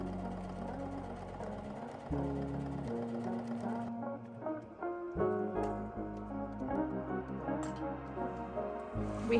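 A sewing machine stitches the side seam of a pair of thrifted pants, its motor humming in steady runs that stop and restart several times, close and clear.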